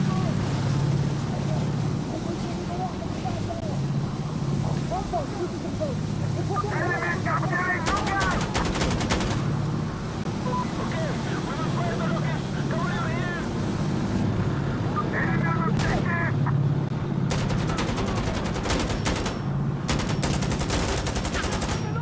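Enemy fire support in Insurgency Sandstorm, with bursts of machine-gun fire and rapid volleys against a constant roaring background. Someone talks over the shooting at times.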